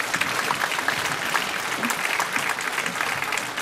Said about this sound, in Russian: Аплодисменты должны быть бурными.